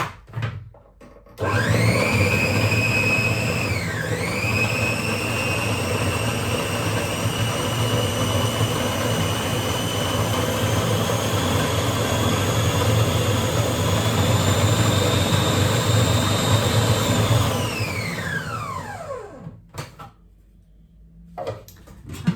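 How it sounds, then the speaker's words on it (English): Blender whirring through sweetcorn, peas, egg and self-raising flour for fritter batter, a loud steady motor roar that dips briefly near the start, runs for about sixteen seconds, then winds down and stops. "And I'm going to blend it all."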